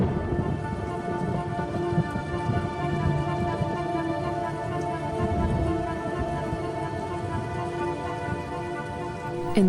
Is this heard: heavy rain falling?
yes